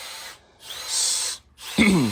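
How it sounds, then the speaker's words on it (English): A power drill runs in two bursts in a workshop, each a loud, high whine lasting under a second with a brief silence between, followed by a short spoken remark. "he's really going to town over here with this drill"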